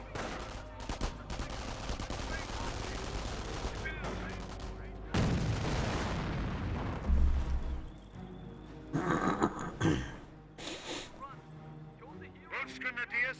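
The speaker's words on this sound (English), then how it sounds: "Incoming gunfire." Bursts of in-game gunfire and explosive battle noise from a Company of Heroes 1 match between Wehrmacht and US forces, with a sustained rumbling passage followed by sharper separate blasts, heard under continuous commentary.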